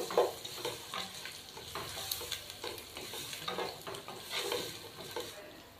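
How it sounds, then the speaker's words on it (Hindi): Spices and salt are stirred together in a pan for beef yakhni pulao, a spoon scraping in steady repeated strokes over a soft sizzle, close and moderately loud with no talking. "इन सबको अच्छे तरीके से मिक्स कर देते हैं।"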